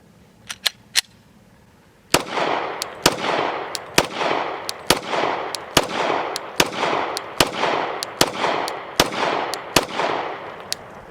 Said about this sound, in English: We're going to shoot 40 Smith & Wesson.